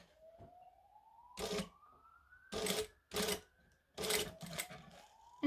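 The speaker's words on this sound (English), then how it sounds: "So now we're going to have to stitch around the edge" A sewing machine stitches around the edge of a Hailie Jade garment by KM Designs in several short bursts of close, clattering needle runs separated by pauses, over a faint rising motor whine.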